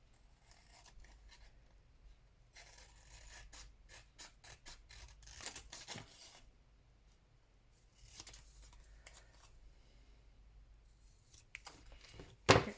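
Scissors cutting and trimming paper for a handmade journal, a series of quick close snips and rustles in bursts with quiet pauses between, and a louder paper handling rustle at the end.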